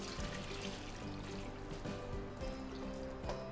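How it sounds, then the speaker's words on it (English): Water pouring steadily into a soup pot while making split pea and ham soup, a continuous close trickling and splashing stream with a faint bit of clatter, no talking. "we'll add about, maybe about a quart and a half of water in"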